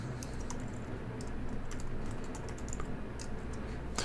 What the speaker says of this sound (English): let me type and then I'll talk.